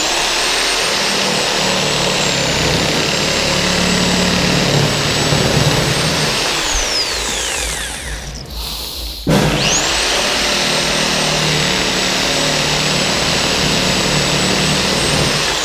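Corded reciprocating saw cutting wood, a loud continuous high-pitched motor buzz with rough sawing texture; the motor winds down briefly midway, then restarts and runs steadily again.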